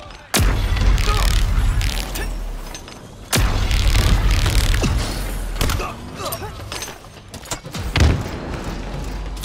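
Grenade explosions in a video game, several heavy booms with sharp onsets spaced a few seconds apart, surrounded by rumbling mechanical and combat noise.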